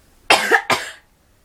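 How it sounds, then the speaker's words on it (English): Two quick, harsh coughs from a young person, close and loud, the second slightly shorter, followed by quiet. "why do I keep coughing?"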